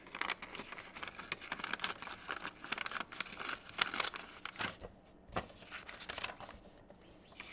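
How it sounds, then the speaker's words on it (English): Paper being torn by hand for a craft project, giving a run of dense crinkly rips and rustles that come close and fairly loud across the whole stretch, with a few sharper tears near the end. "on the bottom I'm going to hand tear it"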